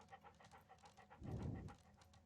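A dog in the Sherlock Holmes Crimes and Punishments video game pants in quick rhythmic breaths, soft and close, swelling briefly louder midway.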